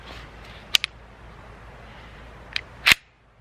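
Shots from a Kel-Tec PMR-30 pistol firing 45 grain hollow point rounds at an outdoor range, heard as a few sharp, fairly distant cracks, two close together early and a louder pair near the end, over steady background hiss.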